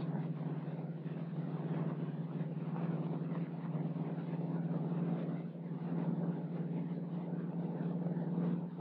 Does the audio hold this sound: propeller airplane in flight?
yes